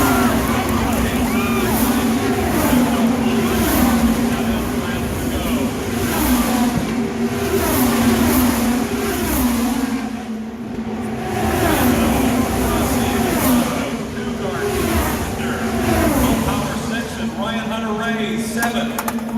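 IndyCar race cars roar down the main straightaway at the Indianapolis 500, engines loud and sustained over crowd noise, with an excited commentator talking throughout.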